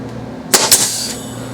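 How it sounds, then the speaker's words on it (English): Two sharp, loud pneumatic nail-gun shots drive nails into wood for a doghouse build, fired in quick succession about a fifth of a second apart against a quiet background hum. "And I've got my nail gun, and I want to push this down toward the ground. And I'm going to press this in."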